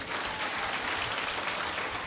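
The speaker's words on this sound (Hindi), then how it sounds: "उसके लिए ताली बजा दो।" Audience applause at a Hindi religious discourse: dense, steady clapping from a crowd that fills the whole stretch at an even, moderate level, with no talk over it.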